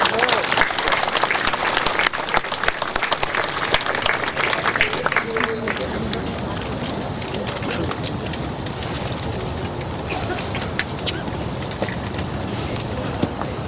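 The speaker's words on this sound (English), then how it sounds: "I'd like to just ask you for a round of applause for our Marine Band" An audience claps for a Marine band and POW singers at a repatriation ceremony for fallen paratroopers. Dense clapping fills the space, strongest early and thinning slightly but continuing throughout, with some voices mixed in beneath.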